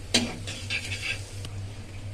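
Minced garlic and green chili are stirred in a pan for chicken and vegetable momo filling: a few light spatula scrapes and taps against the pan over a low, steady hum, with no one speaking.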